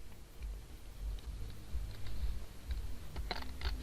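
Someone types on a computer keyboard, making a run of irregular, fairly quiet clicks and taps over a low background hum.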